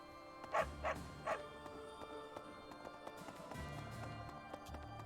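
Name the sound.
dog barking in the video game Fire Emblem: Three Houses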